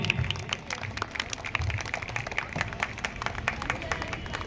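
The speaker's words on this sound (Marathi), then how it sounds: "टाळ्या वाजवा" Audience clapping at a rangoli competition prize-giving ceremony with a haldi-kumkum gathering, honouring a second-prize winner; steady, dense applause from a crowd with a background murmur, continuous and fairly loud throughout.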